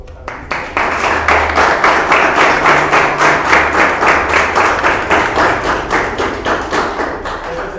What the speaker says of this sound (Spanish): le damos un aplauso a nuestros panelistas